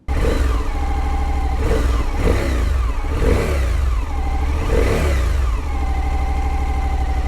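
A loud, close Suzuki V-Strom 1050 motorcycle engine with gear-driven camshafts runs continuously with a mechanical whine, rising and falling in several revs over a steady rumbling idle.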